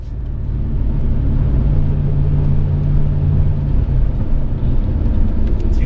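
A turbocharged Fox-body Mustang running at 10 psi boost on the road, its engine a loud, steady low rumble with constant drone heard from inside the car and no talk.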